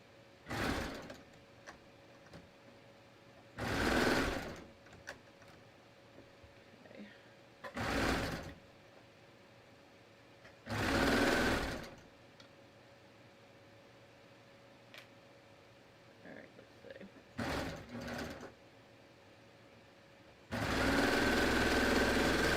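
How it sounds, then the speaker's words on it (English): A sewing machine stitches a sleeve seam in several short separate bursts, with quiet pauses of handling between runs and a longer, louder run at the end. "let's sew the bottom one side here"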